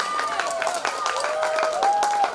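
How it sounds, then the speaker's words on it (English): Brief clapping from a debate audience at an international competition, a moderate patter of hands with voices and a sliding tonal sound over it. "Please give a round of applause."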